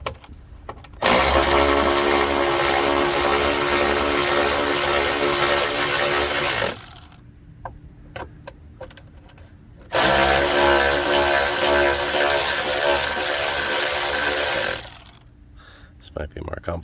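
A power tool whirs loudly in two long sustained bursts, removing the front license plate from a 1996 GMC Yukon's bumper, with a brief pause of small clicks and handling noises between them.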